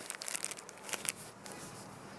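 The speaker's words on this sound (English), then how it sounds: "And then I'll just put it in this Ziploc bag." A plastic Ziploc bag crinkles and rustles softly in bursts, close by and faint, while baby gear is being packed for an international flight.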